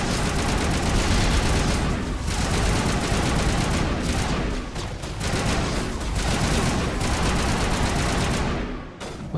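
Dense, loud gunfire from Mass Effect Legendary Edition combat fills the whole stretch, overlapping bursts and blasts running continuously with only brief dips before cutting out near the end.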